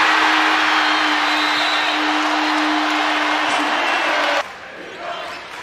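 A Purdue home crowd cheers in a basketball arena, a loud, sustained roar that holds steady and then drops off sharply near the end to a quieter murmur.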